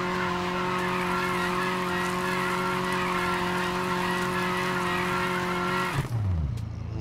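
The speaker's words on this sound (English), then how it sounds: "you want to rev your engine and then press on your brake to cause this sensation right here" A car engine in Need for Speed Heat is revved hard against the brake, a loud steady high-rpm drone with a squealing tire edge that holds for about six seconds, then drops sharply and winds down.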